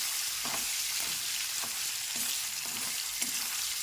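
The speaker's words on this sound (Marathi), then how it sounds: "मी दोन चमचे तूप ठेवलेलं आहे आपण ते पनीर त्याच्यात तळून घेऊ" Paneer pieces frying in two spoons of ghee for a dhaba-style paneer masala, a steady close broadband sizzle with soft periodic stirring or turning sounds, no talking.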